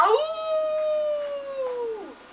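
A long, sustained wolf howl imitated by a human voice while reading a children's story aloud, rising briefly then holding a steady pitch for about two seconds before dropping off.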